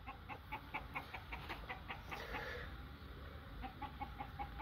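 A desi village rooster clucks in short, repeated bursts after being caught, its calls fairly close over a steady background murmur with no talk.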